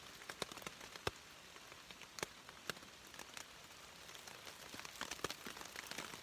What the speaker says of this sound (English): Now that sounds like rain.